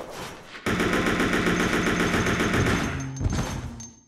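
Rapid automatic gunfire from Resident Evil Code Veronica X rattles loudly and continuously for about two and a half seconds after a short quiet lead-in, then trails into a few scattered shots and clanks.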